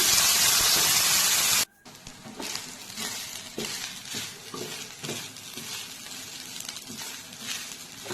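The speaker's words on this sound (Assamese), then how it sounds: "আৰু ধুই থৈ দিয়া চাউলখিনি এতিয়া ইয়াতে দি দিলোঁ। এইখিনি ভাজি থাকিম।" A loud burst of sizzling as washed rice hits the pan for vegetable pulao gives way to steady frying, with scraping and stirring in a pan continuing up close throughout.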